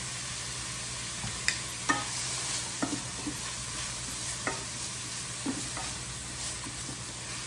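Minced garlic fries in a pan with a soft, steady sizzle, broken every second or so by the scrape and clack of a utensil stirring, close and fairly quiet.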